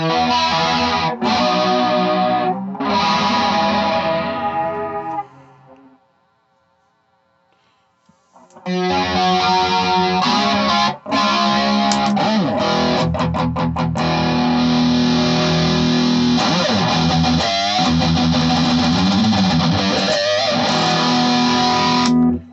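An electric guitar played through a Boss distortion pedal with a heavy, Metal Zone-style tone rings out in loud chords and notes. A brief near-silent pause comes about a quarter of the way in, then playing resumes.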